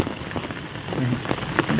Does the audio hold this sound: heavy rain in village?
yes